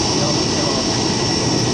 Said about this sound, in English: There's a plane about to take off.